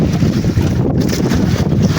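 Strong wind at sea buffeting the microphone over the rush of open water, loud and continuous with gusty surges.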